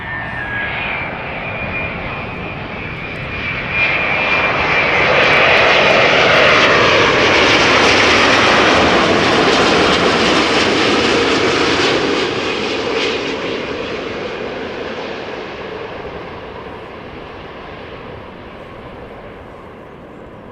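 A Delta Airlines Airbus A330neo arriving at Amsterdam Schiphol from Salt Lake City: jet engine noise swells from a distant rumble to a loud roar as it passes, then fades away, with no talk.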